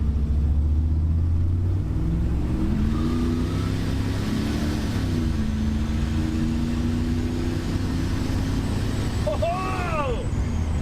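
A cheap turbocharged farm truck accelerating hard on a test run at a track, with a loud, steady engine roar that rises in pitch across the run and a voice briefly heard near the end.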